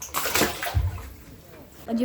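A netted carp or grass carp is tossed back into the water during a control fish catch, landing with a brief, close splash amid sloshing water while people talk nearby.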